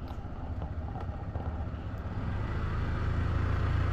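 Motorstar Legend 125 FI motorcycle engine running at night at around 3,000 RPM, a steady low droning hum that grows slightly louder, close and continuous with no talking.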